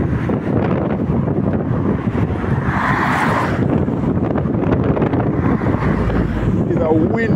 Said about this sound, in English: It's a windy day. Very windy out here